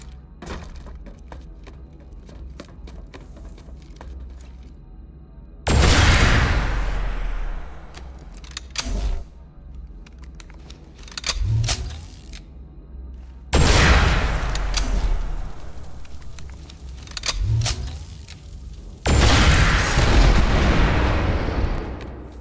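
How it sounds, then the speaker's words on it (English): Rocket launcher blasts destroying an enemy vehicle in Planetside 2, four heavy booming impacts spaced a few seconds apart, each with a sharp onset and long rumbling decay over a steady background of game noise; no talking. "Switch to your rocket launcher and use it to blow up an enemy vehicle."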